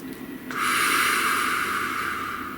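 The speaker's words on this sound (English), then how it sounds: "Please take a nice deep breath." A slow, deep breath drawn in close to the microphone, a soft airy rush that starts after a brief pause and holds steadily for about two seconds, with no talking.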